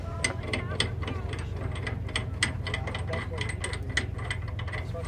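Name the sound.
bolting up hatch on Ram Kangaroo APC with ratchet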